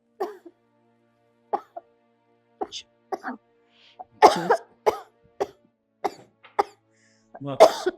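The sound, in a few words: coughing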